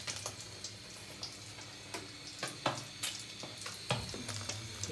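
An egg frying in hot oil, with a busy bed of sizzling and irregular sharp pops and spits of oil scattered throughout, heard close and moderately loud.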